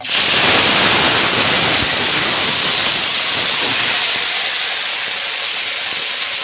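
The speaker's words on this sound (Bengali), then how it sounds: "এই দেখো তেল দিয়েছি এরপরে চিকেনটা দিয়ে দেবো" Chicken sizzles in hot oil, a loud, dense hiss and crackle that starts strong and settles into a steady, slightly fading sizzle with no talk.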